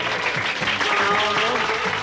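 Steady, dense applause from a studio audience fills the whole stretch, loud and continuous with no pauses.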